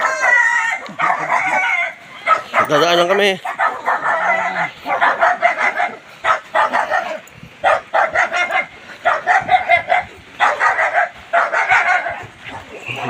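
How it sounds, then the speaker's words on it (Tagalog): Many chickens cluck and roosters crow repeatedly nearby, with a dog barking among them and a person speaking briefly over the flock. "Daming manok."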